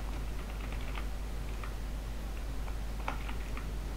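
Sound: typing on a computer keyboard

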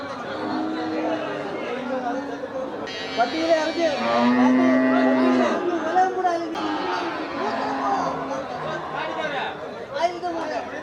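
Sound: cattle at a livestock market mooing

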